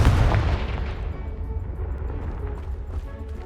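In Hogwarts Legacy, a Confringo spell sets off a loud, close explosion with a heavy low boom that decays into rumbling, crackling debris.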